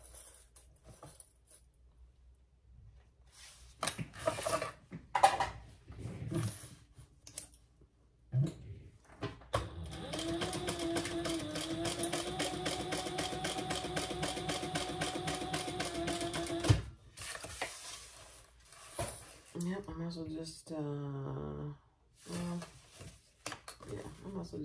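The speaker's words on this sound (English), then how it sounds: "we're gonna sew down these two sides at 1/2 inch" Sewing machine stitching down two sides of dark navy fabric at a half-inch seam, a steady mechanical whir running several seconds, with handling noises and a voice talking before and after.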